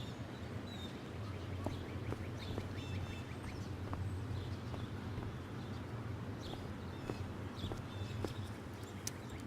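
Faint bird calls in the video game Life is Strange chirp intermittently over a soft ambient background, scattered and distant.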